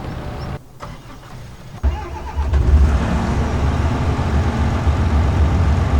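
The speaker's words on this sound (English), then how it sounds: "And this is the lawnmower" In the Farming Simulator 25 video game, a lawnmower engine starts up after a brief lull, then settles into a loud, steady running drone that holds close and constant with no talking.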